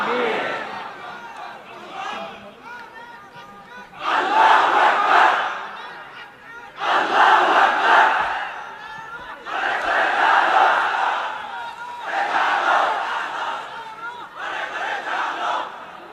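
A large crowd at an Islamic religious gathering in Narayanganj roars a takbir chant in unison, in repeated loud swells of massed voices with short dips between them.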